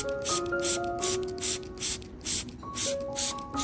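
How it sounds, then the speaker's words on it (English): Quick hissing sprays of a diluted orange-peel solution onto anthurium leaves repeat in a steady rhythm, about two bursts a second, close by, with soft tonal music playing underneath. "Maintain a proper spraying distance so the solution is evenly distributed and does not accumulate in one area."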